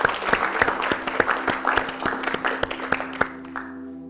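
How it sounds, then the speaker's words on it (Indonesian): A small group at a workshop in Ubud claps, with loud, distinct, fairly regular hand claps over a softer patter of applause that stops near the end, leaving a faint hum. "Tepuk tangan dulu ya"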